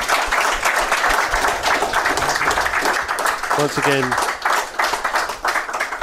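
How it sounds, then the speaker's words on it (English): An audience at an evening medical talk event claps in a brief round of applause, a broad wash of hand claps mixed with a voice speaking over it. "So a round of applause for that"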